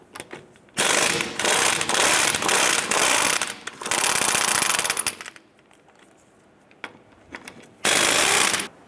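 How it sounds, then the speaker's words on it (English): A ratchet with a 19mm socket loosens lug nuts on a 1993-1997 Ford Ranger wheel, giving loud, close, rapid clicking bursts in several runs separated by brief pauses. "Using our 19mm socket, let's go ahead and remove our lug nuts"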